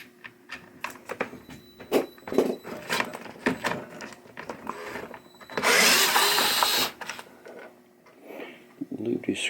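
A cordless drill backs out screws from a 1976 Bally Captain Fantastic pinball machine's back plate, with short intermittent whirring bursts between clicks and handling noise and one longer, louder run near the middle.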